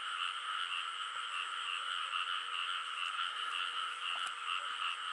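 A large frog croaks in a continuous, dense, buzzing chorus-like trill, close and steady, with no talk, outdoors in rural rice fields at night.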